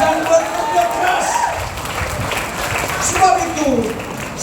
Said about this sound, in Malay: berikan tepukan kepada semua menteri-menteri kita yang bekerja keras